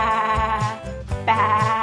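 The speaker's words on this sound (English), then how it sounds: "Let's do a sheep. What does a sheep say?" A sheep bleats loudly and close, two drawn-out, wavering baas separated by a short gap.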